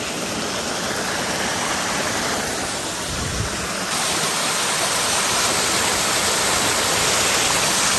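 A waterfall pours steadily near a small water-crossing bridge and a temple. The roar is dense and unbroken, like loud rushing water, with no voices over it.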